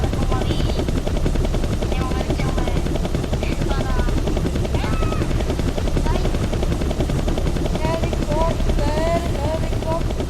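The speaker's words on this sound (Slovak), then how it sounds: "Helikopter, helikopter." Helicopter rotors thump steadily through a Roblox combat game, a constant loud chopping drone with gunfire-like pops, while voices talk and shout over it.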